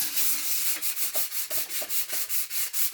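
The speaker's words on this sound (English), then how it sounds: "So sand with the grain. So just up and down." Wood being hand sanded with the grain using 600 grit sandpaper as a final smoothing finish, steady rhythmic up-and-down rubbing strokes, close and alone.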